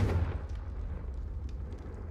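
In the Hogwarts Legacy game, a Confringo explosive spell goes off as a single deep, booming blast at the start, followed by a low rumbling tail that fades over a couple of seconds.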